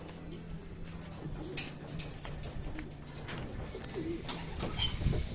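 Racing pigeons cooing at a loft after a derby race, soft, low coos repeating at close range over quiet background ticking, with a few faint clicks and scuffles.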